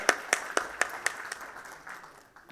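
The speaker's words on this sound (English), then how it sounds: "Can we have a huge round of applause for all of them?" Applause from the audience at a Behaviour-Based Safety panel, crowd clapping with several sharp peaks early on, then a steadier, fading patter of hands.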